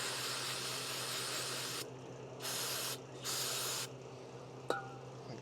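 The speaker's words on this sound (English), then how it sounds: "we're gonna spray it off with some brake cleaner" Brake cleaner sprayed onto a rubber brake hose on a Jeep CJ5 in two short bursts, a close, sharp aerosol hiss that stops and starts, over a low background hum and ending with a faint tap.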